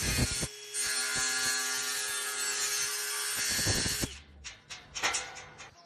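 Wood being cut to make a notch for fitting a Locinox Fortylock lock, with a steady, loud sawing or grinding sound for about four seconds, then a few brief scraping and tapping noises.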